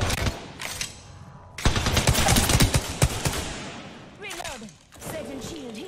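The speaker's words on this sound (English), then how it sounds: "Listen up, I'm getting shot at." Rapid bursts of automatic gunfire in an Apex Legends firefight, loud and dense, with pauses between volleys and game effects sounding near the end.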